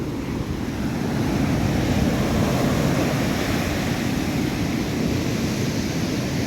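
Sea waves roll in at Vadanappally beach under an overcast midday sky, making a steady, loud broadband roar with wind buffeting the microphone throughout and no voices.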